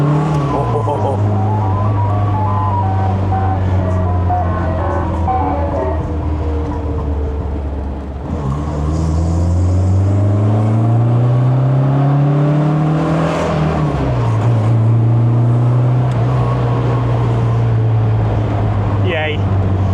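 A classic MG Midget drives round the block, its engine droning loudly from inside the car as the pitch climbs and drops through gear changes, with people talking at times.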